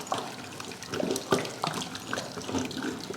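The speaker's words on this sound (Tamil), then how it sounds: "இப்போ தண்ணியை வடிச்சிட்டு நான் கடைஞ்சி எடுத்துக்கிறேன்" Water is poured off cooked lentils and carrots in a home kitchen, making a steady, close splashing and gurgling stream with brief spattering bursts throughout. No one speaks.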